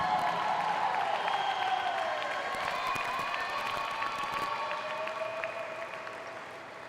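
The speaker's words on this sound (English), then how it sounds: "Let's give them one more round of applause." An audience at the 2022 USA Diving Winter National Championships applauds and cheers the synchronized diving champions, a steady, dense wash of clapping and crowd noise that holds for several seconds and fades slightly toward the end.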